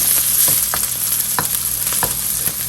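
Green chili and cumin seeds frying in hot oil in a home kitchen, a steady close sizzle with intermittent scraping stirs of a spoon against the pan, no voices.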